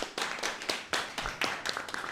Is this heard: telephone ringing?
no